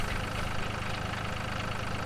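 Tractor engine in Farming Simulator 2013 idles with a steady, continuous mid-low rumble, held at an even level and heard alone, with no talk over it.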